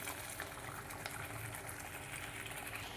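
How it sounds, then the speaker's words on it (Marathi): Water boils in a cooking pot for palak dal khichdi, a soft, steady bubbling hiss heard up close and faint, with no talking. "बघा आता उकळी आली आहे."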